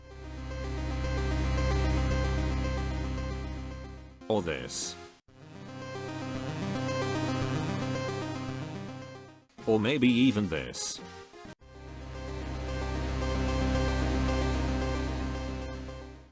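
Three long warbling electronic tones, the signals of fictional creatures called gels, repeat, separated by brief quick chirps while a voice asks short questions between them.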